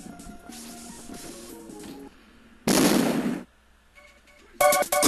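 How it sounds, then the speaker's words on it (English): Explosions during the Grenademan boss fight in the Mega Man 8 video game: a loud, sudden noisy blast in the middle and another bright burst at the end, between quieter synthetic game sounds. "That first explosion is much louder in the Anniversary Collection version"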